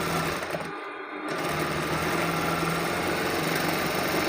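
A sewing machine runs a straight stitch on a kameez, whirring continuously and fairly close, with a brief pause near the start before the steady stitching resumes.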